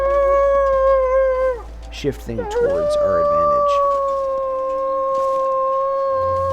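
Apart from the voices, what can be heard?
wolves howling in the video game The Long Dark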